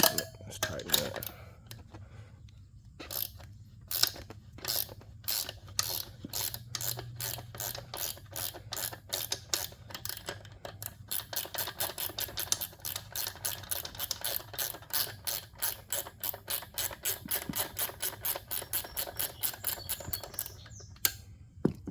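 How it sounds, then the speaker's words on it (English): Rapid ratcheting clicks from a 12mm ratchet wrench tightening the bead lock nut on a dirt bike wheel during a tube change, close and steady, in long even runs. "you need a size 12mm wrench. Let's tighten that."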